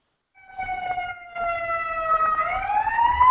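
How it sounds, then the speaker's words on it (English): An ambulance siren wails outside a building during a yoga class, its steady multi-tone tone holding and then rising in pitch, moderately loud and continuous with a brief gap near the start. "It wouldn't be a yoga class at Liz's without the ambulance siren going off"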